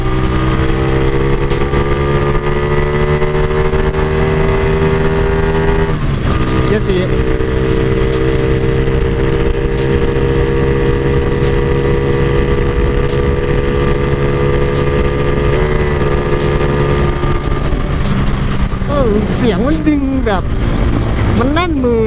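Motorcycle on stock sprockets with the throttle twisted up, a loud steady engine drone climbing in pitch, dipping briefly and rising again, with brief talk near the end.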